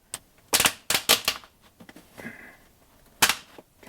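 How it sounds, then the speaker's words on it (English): Hose clamp being fitted onto a 7 millimeter diesel heater pipe in a garage, a series of sharp close metallic clicks and snaps in quick bursts, with a brief scraping sound between them. "Put that hose clamp on."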